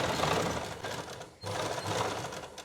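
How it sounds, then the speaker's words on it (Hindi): A sewing machine stitches a garment neckline in a close, continuous whir, pausing very briefly midway before running on again. "यहाँ पे आपने सिलाई लगानी है"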